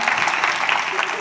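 A crowd applauds for Josie at an evening event, a short burst of dense, bright clapping that stays loud and even throughout.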